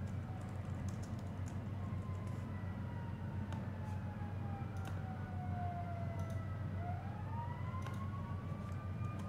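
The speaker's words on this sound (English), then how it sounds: "Whose siren is that? Is that ours?" A distant siren wails and slides in pitch over a constant low hum, with occasional soft keyboard clicks nearby.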